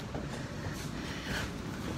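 Steady low rumble and rattle of an empty Edinburgh tram cabin while riding, a continuous hum with faint rushing noise throughout, no voices.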